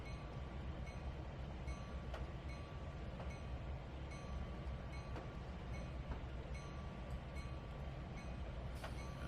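A train in the simulator game Trainz 2019 rolls steadily along the rails, wheels clicking at regular intervals over a constant low rumble, moderately distant and without voices.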